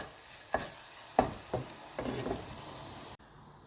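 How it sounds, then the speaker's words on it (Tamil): Chopped green chili and garlic frying in a pan for a Kerala-style injipuli, a steady soft sizzle broken by several sharp stirring clacks, close and alone, ending abruptly. "பொடியாக நறுக்கின பச்சை மிளகா பூண்டும் வறுத்தெடுத்துக்கலாம்."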